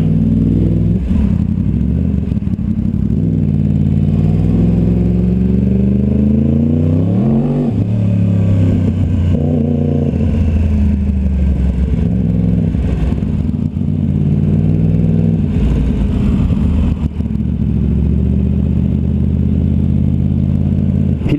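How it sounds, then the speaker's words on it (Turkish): Engine noise from a Yamaha R1 motorcycle in road traffic, a loud, continuous drone that rises and falls as the bike revs, with passing vehicles mixed in. "Trafik."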